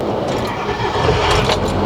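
A 6.0L Powerstroke diesel truck engine cranks and fires up on its first start of the night, a loud, close, rough broadband roar that settles into a steady running rumble.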